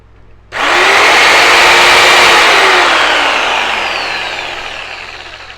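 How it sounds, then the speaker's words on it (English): An ALDI Workzone power tool's electric motor whirs up suddenly to a loud, smooth high-pitched spin, holds, then slowly winds down as the pitch falls, close up with no talk. "Yeah, it actually sounds quite a smooth running motor in there."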